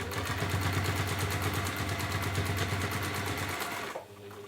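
A sewing machine stitches fabric for a hanging shoe bag in a fast, even mechanical whirr and rapid needle clatter, running steadily up close before stopping abruptly near the end.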